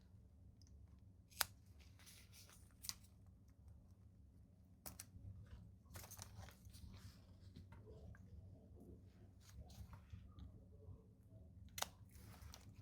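Scissors trim fabric for a crossbody bag, with a few sharp, close snips spaced irregularly over quiet background hum.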